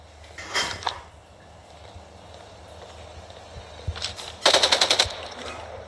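Light machine gun fire in a video game: a short burst early on, then a louder rapid burst of several shots later, punchy and close against a quiet game background, with no talk.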